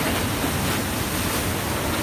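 River water surging and splashing over the side of a tour boat on the Seine in Paris, a loud, continuous broadband rush with wind buffeting the microphone and no talking.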